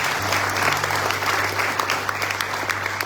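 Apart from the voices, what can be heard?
audience applause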